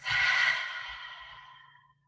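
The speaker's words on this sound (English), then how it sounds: "Take a deep breath in. And open mouth." A single long, deep exhale through an open mouth at the start of a yoga session, a loud close breathy sigh that fades away over about two seconds, with no talk.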